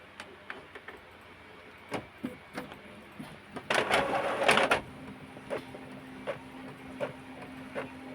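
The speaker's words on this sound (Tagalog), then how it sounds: "So para ma-check natin kung goods na yung quality, piprint tayo ng picture" Epson L3210 inkjet printer printing a colour picture after repair of a missing-cyan fault, with regular close mechanical ticks and whirs from the print head and a louder feed burst midway.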